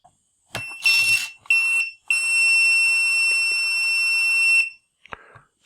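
An electronic quantum flight computer and a servo timer on a two-stage water rocket power on with close, loud beeps: a few short bursts, then one long sustained high tone and a couple of soft clicks after it.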